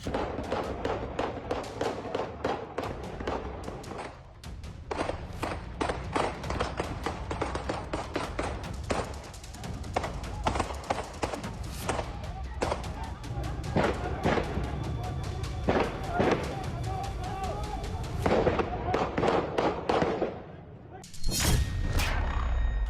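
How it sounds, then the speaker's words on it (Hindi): Rapid bursts of gunfire in Pakistan-occupied Kashmir crackle in dense, uneven volleys, sharp cracks piling over one another almost without pause, with a brief lull near the end. "पीओके में दनादन गोलियां चल रही हैं।"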